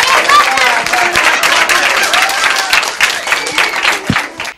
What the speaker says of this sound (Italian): facciamo un applauso a Carmela e a noi mamme